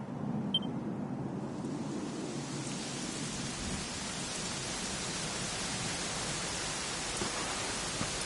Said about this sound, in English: it was raining like this